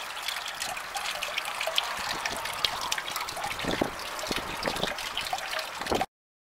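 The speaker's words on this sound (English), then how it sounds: "These tanks are filling up." Water trickles and splashes steadily into the tanks of a hydro lifter, a close, bright, continuous dribble with small bubbling spurts, then stops abruptly.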